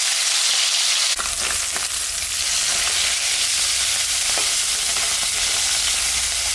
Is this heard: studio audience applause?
no